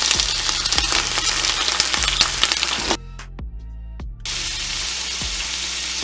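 Carrots, celery and onion browning in a pot give a steady, loud sizzle with scattered crackles and pops, cut briefly to near silence midway before the frying hiss returns.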